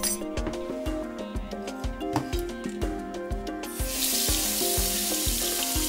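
Warm tap water pours over a removed dermatome blade in a sink, starting partway through as a steady hiss, while faint clinks and a rhythmic musical beat play throughout.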